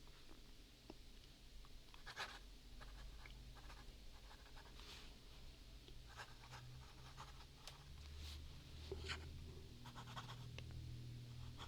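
A medium-fine pen lays ink on paper in faint, intermittent scratchy strokes, close and quiet over a low background hum.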